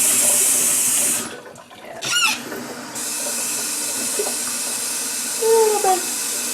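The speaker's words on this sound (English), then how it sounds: "Get the water in there first." Water runs from a kitchen tap into a cooking pot, filling about three quarts before collard greens are blanched, a steady broadband rush lasting most of the moment with brief pauses and faint handling clatter.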